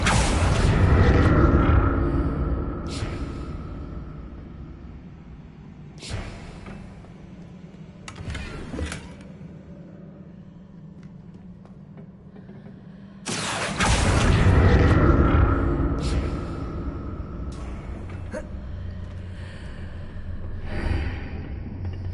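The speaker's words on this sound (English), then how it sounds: "What did that burst of magic do?" Confringo spell bursts in Hogwarts Legacy, two loud booming blasts of magic separated by a quieter stretch of lingering rumble and whooshing.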